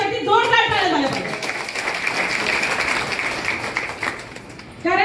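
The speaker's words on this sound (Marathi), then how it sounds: "बाईंसाठी जोरदार टाळ्या झाल्या पाहिजे" An audience at a political party's appointment-letter ceremony claps loudly for several seconds after a short spoken introduction, the applause thinning toward the end as a voice resumes.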